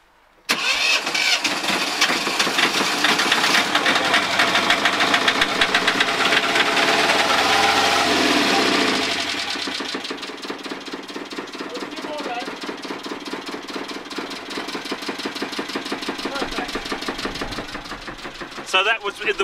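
A Volvo 2002 two-cylinder diesel engine cranks and fires up loudly, running hard for about nine seconds before settling into a steadier, slightly quieter idle, close to the listener.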